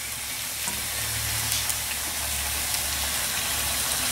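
Sanguin milk-cap mushrooms frying in a pan after a glass of olive oil is poured in, a broad steady sizzle with a low rumble beneath, close and even, no voices.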